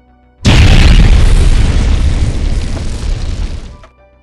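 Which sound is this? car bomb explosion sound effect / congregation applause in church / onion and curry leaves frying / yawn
car bomb explosion sound effect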